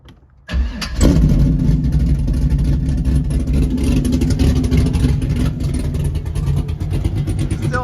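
A straight-piped C5 Corvette engine with a new fuel pump and a base tune cranks and fires up in neutral, then settles into a loud, rough, burbling idle close by.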